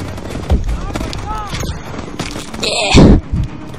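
Gunfire in the futuristic shooter Call of Duty Advanced Warfare, loud close bursts of shots with a heavy blast near the end, over a continuous game soundscape.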